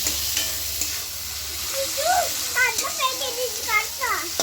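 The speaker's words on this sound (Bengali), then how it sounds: "ভাজা ভাজা হয়ে গেছে, একটু টমেটো দিয়ে দিলাম।" Tomato dropped into hot oil for a fish-fritter curry, giving a continuous close sizzle and stirring scrape, with voices and children's chatter in the background.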